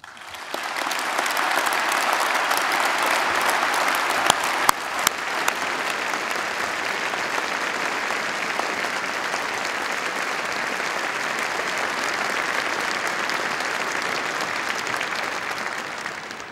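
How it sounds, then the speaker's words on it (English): Audience at an Imperial College postgraduate awards ceremony applauds in a loud, dense, sustained ovation that fills the whole stretch evenly before easing at the end. "I think they, above all today, deserve a round of applause"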